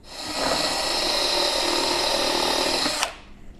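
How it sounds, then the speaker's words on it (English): A power drill enlarges a 1/4-inch hole to 3/8 inch for a Custom Dynamics LED latch light, whining steadily at close range for about three seconds before stopping abruptly. "Now what we're going to do is make this hole bigger. Right now this is a 1/4 inch. We're going to drill it to a 3/8."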